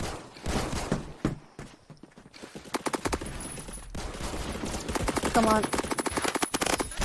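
SCAR PDW gunshots in the shooter Phantom Forces: quick bursts of automatic fire come in several runs, first sparse and then denser and louder toward the end, with a short spoken remark mixed in.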